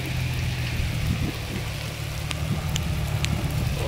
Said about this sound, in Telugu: వాన చినుకులు ఎట్లా పడుతున్నాయి చూడండి